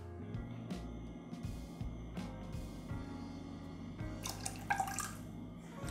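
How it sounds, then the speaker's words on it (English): Simple syrup poured into a Sidecar cocktail, heard as faint liquid drips and trickles with small clinks, close and quiet. "we need to add just a little bit of simple syrup to achieve the perfect balance"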